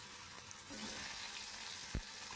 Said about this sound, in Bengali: ফোড়নটা দেখো আমার ভাজা হয়ে গেল। এরপরে আমি আলুগুলোকে ছেড়ে দিলাম।